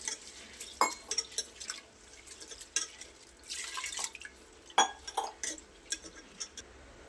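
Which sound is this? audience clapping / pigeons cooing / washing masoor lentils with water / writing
washing masoor lentils with water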